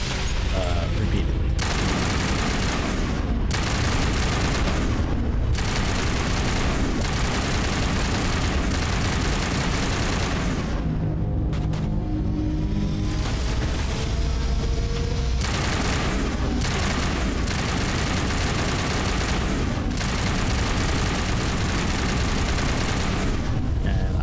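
Rapid gunfire from a weapon in Mass Effect Legendary Edition, long loud bursts of repeated shots and booms with brief pauses between volleys, and a voice talking over parts of it.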